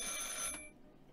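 A telephone rings briefly in the video game Martha Is Dead, one bright electronic ring that cuts off after about half a second, leaving a quiet room tone.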